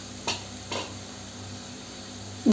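Sliced carrot and long strips of capsicum are sautéed in a pan, giving a soft, quiet sizzle broken by two brief utensil scrapes early on and a small clink at the very end.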